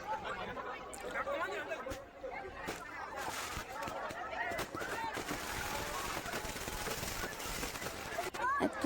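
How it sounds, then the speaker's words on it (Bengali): Fireworks crackle and pop in dense, rapid bursts over the Ganges river during a festival night, a continuous busy barrage with a hubbub of crowd voices mixed underneath. "এবার গঙ্গার নিচের যে বাজিগুলো সেগুলো ফাটছে"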